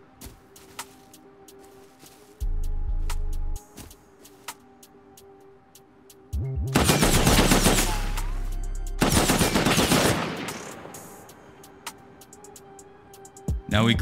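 Video game turret letting loose bursts of rapid automatic fire, loud and close, with long sustained volleys broken by quieter gaps.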